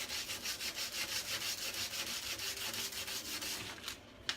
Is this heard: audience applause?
no